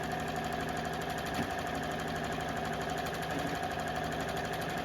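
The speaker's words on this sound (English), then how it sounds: "I am going to lower that, and I am going to sew all the way down." A Juki sewing machine with a quarter-inch foot stitches a straight seam along a drawn line on a Santa ornament project, giving a fast, even, steady motor hum and needle chatter that runs unbroken and close.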